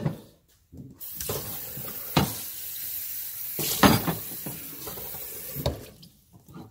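Kitchen tap running while something is rinsed, a steady splashing water stream broken by a few clunks of dishes and brief pauses where the flow stops, close and clear with no talk.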